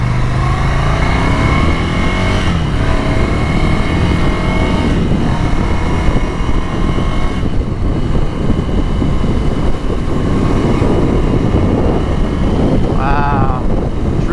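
A 2019 Ducati Scrambler Cafe Racer motorcycle pulls away on the road, its engine note rising and shifting steadily under loud, constant wind buffeting on the microphone.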